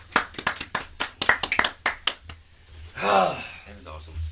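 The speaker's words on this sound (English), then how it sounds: "Let's clap." A small group claps in quick, uneven bursts for about two seconds, sharp close hand strikes, followed by a gasp or exclamation and voices talking.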